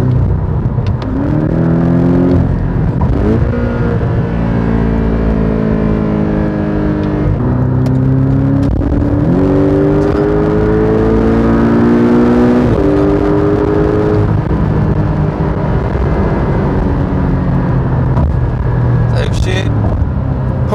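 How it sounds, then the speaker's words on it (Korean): Porsche 718 Boxster GTS with a mid-mounted boxer engine, heard from inside while driving: loud engine revs climb and fall repeatedly, with the exhaust flap growling on throttle lift-off and a voice talking intermittently over it. "쭉 달리다가 엑셀 오프할 때 머플러에서 나오는 배기플립에서 나오는 사운드가 좀 특이하죠"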